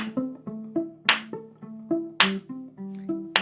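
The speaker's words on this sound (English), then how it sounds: "So you're clapping with the violin." A single person claps along in time with violin music, sharp, close hand claps landing on a steady beat over sustained bowed notes, with a couple of brighter, louder claps standing out.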